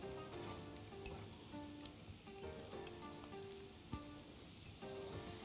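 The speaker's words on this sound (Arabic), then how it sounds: "هحط بقى اللحمه فيه واقلبه كويس قوي." Meat frying in a pan while being stirred and turned, a faint steady sizzle with scattered crackles and soft scraping clicks, no voices.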